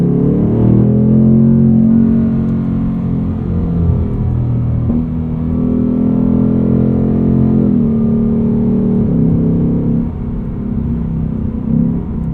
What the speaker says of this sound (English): Downshifting on its own into a braking zone